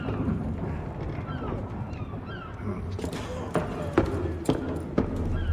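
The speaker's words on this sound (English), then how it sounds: "Hear the birds." Gulls calling at sea in the video game Assassin's Creed 3, scattered honking cries over a murky background, with a few sharper knocks near the end and a voice speaking over it.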